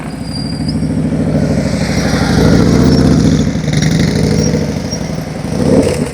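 A motorcycle engine is held at steady high throttle during practice riding, a loud continuous rasping drone that swells and dips slightly as the bike moves.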